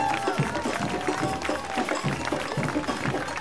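A crowd in Aubervilliers gives Olympic silver-medal boxer Sarah Ourahmoune a sustained round of applause, dense clapping mixed with cheering voices, loud and steady throughout.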